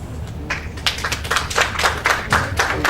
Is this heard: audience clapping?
yes